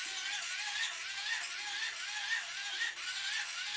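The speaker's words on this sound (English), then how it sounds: "I'm going to increase the rate at which I turn the hand crank generator" A hand crank generator being turned faster, giving a steady whirring, ratcheting mechanical drone that stays level and continuous at close range, with no talking.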